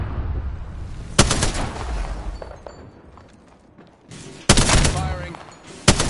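Apex Legends gunfire: loud, sharp bursts of automatic shots, one near the start and a heavier cluster later, separated by quieter stretches of game ambience and a few faint voice callouts.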